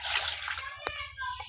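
Cut prawns are washed by hand in a bowl of water, giving close splashing and sloshing that ends in a sharp splash, while a voice talks faintly in the background.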